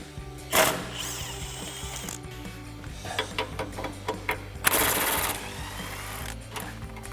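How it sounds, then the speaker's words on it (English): A 15mm swivel socket on a ratchet works bolts loose under a 2014-2015 Sierra 1500 pickup, with a run of quick, close ratcheting clicks and some bursts of louder clattering metal contact. "So I've got a 15mm swivel socket to pull these out."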